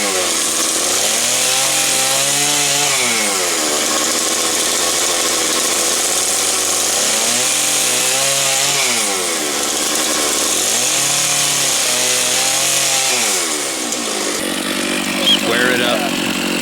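A chainsaw cuts the final mortise for the armrests in a piece of chainsaw-built wooden furniture, its loud engine repeatedly revving up into the cut and dropping back toward idle, close and dominant throughout.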